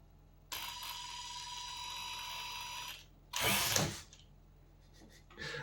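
Steering servo on an FTX Outback Gladius ready-to-run RC trail truck whirs in a steady mechanical whine for a few seconds, followed by a louder, harsher burst of grinding gear noise, then quieter ticking, all close up.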